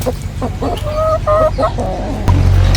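Native country chickens cluck in short bursts, fairly close, over a steady low background rumble, at a park in Chikkaballapur, India.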